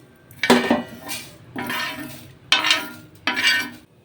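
Roasted ingredients for a homemade drink are scraped from a pan onto a plate: four distinct bursts of metal spoon scraping and clinking against cookware, close and fairly loud, separated by short pauses.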